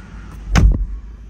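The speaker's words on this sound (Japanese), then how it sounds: "ドア閉めた音はこんな感じ。" A single solid thud of a Subaru Crosstrek Limited car door shutting nearby, short and muffled, heard from inside over a quiet background hum.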